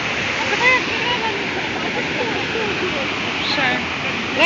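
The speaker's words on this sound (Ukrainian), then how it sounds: "Але то квебекський водопад." Continuous loud roar of rushing water from a large waterfall in Quebec, a broad steady wash of sound, with faint voices partly buried underneath.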